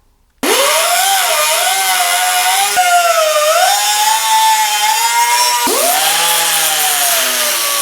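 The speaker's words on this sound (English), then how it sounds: "I will just take a zip wheel and cut this off" A zip wheel cuts through a piece of steel on a car wiring harness rebuild, a loud continuous high whine with shifting pitch that bites in three separate passes, with no talking over it.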